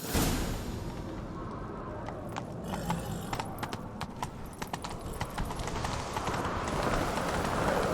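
A horse gallops in The Witcher 3, rhythmic hoofbeats pounding steadily and fairly close over a wide rumbling outdoor backdrop, with no talking.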